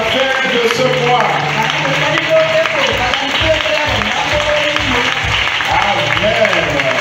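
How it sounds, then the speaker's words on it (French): A church congregation applauds and cheers for Jesus during an evening service, continuous clapping and crowd noise with music and voices underneath throughout. "Acclame Jésus parce que c'est la dernière semaine."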